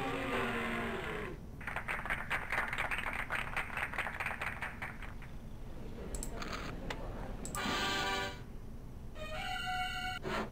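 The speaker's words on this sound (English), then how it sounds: "Let's hear some applause." Cartoon-style audience applause in a Freddi Fish adventure game, a dense crackle of clapping that swells for several seconds, dips, then returns with a brief burst of game tones near the end.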